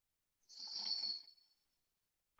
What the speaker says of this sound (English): Ujjayi breathing.